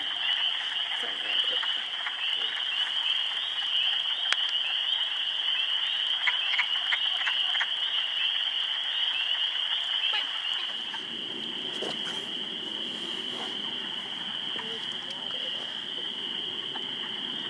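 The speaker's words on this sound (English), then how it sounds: "The male will make that clucking noise until it finds a female" Many male wood frogs call together in a dense, continuous clucking chorus, with rapid overlapping calls from several directions that thin out toward the end.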